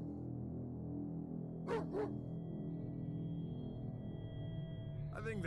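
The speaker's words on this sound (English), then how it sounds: "I think that dog's trying to tell us something." A dog barks in the video game State of Survival, two quick sharp barks followed later by another, set over a steady droning game music bed, with a voice speaking.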